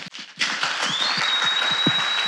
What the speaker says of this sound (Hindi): अब ताली नहीं बजाएगा, मैं ही बजाता हूं.